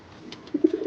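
Young racing pigeons coo in a loft, a few soft, close, rising coos in quick succession after a brief quiet start.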